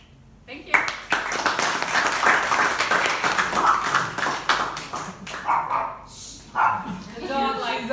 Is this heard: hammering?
no